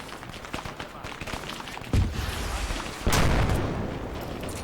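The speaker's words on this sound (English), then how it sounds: "Big explosion." Two big explosions in the ARMA 3 war game, set in Cold War Germany, boom in quick succession, each a sharp blast followed by a rolling rumble over ongoing battle noise.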